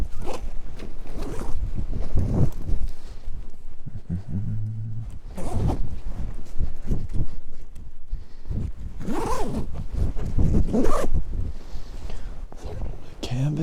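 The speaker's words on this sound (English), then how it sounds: "So we're going to open the zippers up." Zippers on a Dominator 3.0 canvas bedroll are pulled open in several close, scratchy bursts with brief pauses between them, alongside some soft handling rustle.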